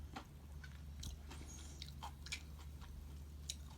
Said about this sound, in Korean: 김치가 좀 아삭아삭하게 씹히는 소리 들리시나요?